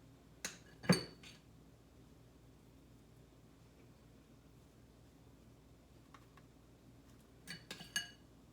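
A metal teaspoon clinks against a dish while deviled egg whites are filled, with a couple of faint clicks near the start and a short cluster of light taps near the end, separated by a quiet stretch.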